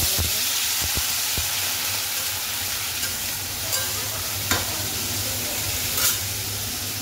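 Soybean chunks fry in a pan with a constant loud sizzle and hiss, broken by a few sharp spatula taps and scrapes near the start, heard up close without talk.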